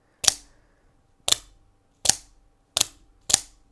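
An OTF (out-the-front) knife blade fires out five times, each a sharp, close metallic snap with a brief ringing tail, spaced roughly a second apart in a quiet room.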